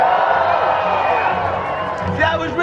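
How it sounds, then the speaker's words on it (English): An audience at the Waterworld live stunt show at Universal Studios Hollywood lets out a burst of screaming, whooping and cheering, with some scattered clapping near the end. The crowd noise is loud, dense and close throughout. "I want you to scream. I want you to clap."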